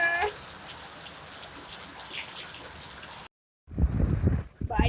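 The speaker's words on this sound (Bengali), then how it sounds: "বাইরে কি দারুণ বৃষ্টি পড়ছে।" Steady rain falls outside in the evening, an even patter for about three seconds before a brief gap, then voices talk close by.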